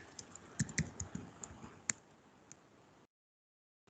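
Keys clack on a computer keyboard as a short Linux command is typed, a quick run of close, crisp taps that stops abruptly and leaves silence, with no voices.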